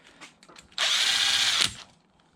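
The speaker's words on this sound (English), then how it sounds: "Snug them up with the impact drill first" A single close burst of an impact drill snugging bolts on a Yamaha YFZ450R engine rebuild, running steadily for just under a second between quiet pauses.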